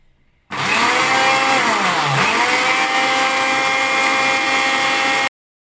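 An electric mixer whisks egg whites until fluffy for vanilla pancakes, a loud, steady motor whir that starts abruptly, runs for about five seconds with a brief dip in pitch, then cuts off.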